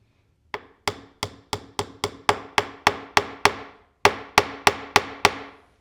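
A hammer taps metal in a steady rhythm, about fifteen sharp ringing strikes with a short pause before the last few, close and clear.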